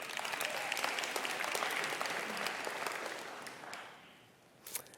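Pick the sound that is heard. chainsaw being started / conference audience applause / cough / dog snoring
conference audience applause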